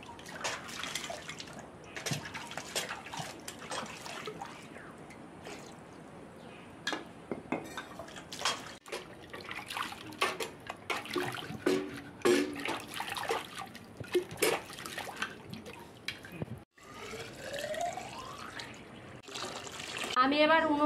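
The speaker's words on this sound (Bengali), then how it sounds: "বাম্বু চিকেন করার জন্য বাঁশগুলো ভালো করে ধুয়ে নেব।" Bamboo tubes for bamboo chicken being washed outdoors, water pouring and trickling with knocks and clatter of the tubes throughout, fairly close and steady.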